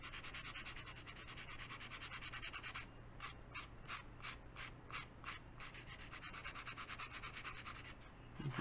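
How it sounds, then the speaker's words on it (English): Sandpaper rubs the foam leading edge of an elastic-launched glider wing in quiet, close strokes, first a continuous scraping and then a run of about a dozen short, regular back-and-forth rasps. "Then you can sand this leading edge."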